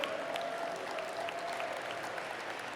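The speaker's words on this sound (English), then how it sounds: "give a round of applause for our families, for our parents that believe in the base so much" Audience applause for families and parents at an ALL IN event, a steady dense wash of clapping throughout, moderately distant, with a faint voice underneath.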